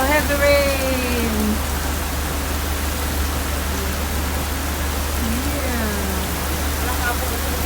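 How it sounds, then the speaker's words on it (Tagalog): Heavy rain pours steadily in Jeddah, Saudi Arabia, a loud, constant wash of water on surfaces with wind. Voices talk briefly at the start and again near the end. "Oh, heavy rain."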